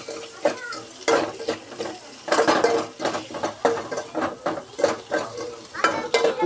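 Tomatoes sizzle in a pan while a utensil stirs and scrapes them in quick, irregular clinks and rattles, close up, as the base for a quick lentil-free sambar is cooked.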